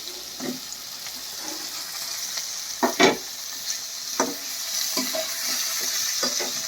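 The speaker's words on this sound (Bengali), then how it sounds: "একটু নেড়ে চেড়ে এর মধ্যে আলু পটলগুলোও দিয়ে দিচ্ছি।" Potatoes and pointed gourd with sliced onion and green chilies stir-fried in hot oil for a rohu fish curry, a steady sizzle broken by several sharp scraping stirs of the spatula.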